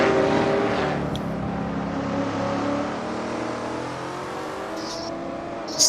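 A touring race car engine from an Assetto Corsa online race at Oran Park drones continuously at high revs, a loud steady whine with slight pitch shifts and a brief rise at the very end, no voices.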